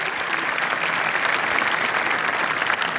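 A large crowd applauds Masters winner Scottie Scheffler at the golf tournament's closing ceremony, with steady dense clapping at moderate distance and no break.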